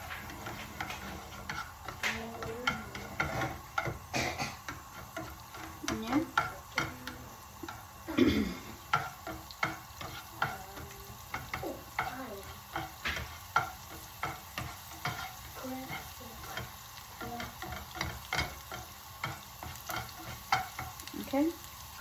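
Ginger, garlic and green chilies frying in a pan, a continuous sizzle broken by repeated spoon scrapes and light ticking taps against the pan, moderately close with no clear talking.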